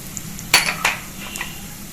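A spoon stirs fennel, asafoetida, turmeric, fenugreek, chili flakes and Kashmiri chili in a pan for sweet-spicy mango launji, giving two sharp metal scrapes and clinks followed by softer scraping, close and with no talk.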